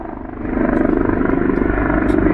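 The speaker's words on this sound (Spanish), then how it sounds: "Mirá, un helicóptero allá." A helicopter passes over the upscale Santa Fe district of Mexico City, its steady, pulsing rotor drone swelling slightly after the first half second and holding loud and continuous, with no talk.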